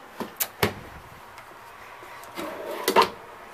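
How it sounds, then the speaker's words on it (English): A full-extension steel bearing drawer in a 2017 Apex 249RBS travel trailer slides and thumps shut a few times nearby, with quick sliding runs and soft knocks, fairly quiet and alone. "You also have full extension steel bearing drawers."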